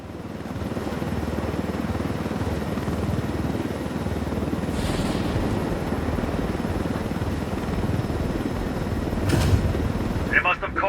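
A helicopter in the Ghost Recon Wildlands video game gives a steady, close rotor drone that fills the whole stretch, with a couple of brief sharp bursts near the end; voices talk over it.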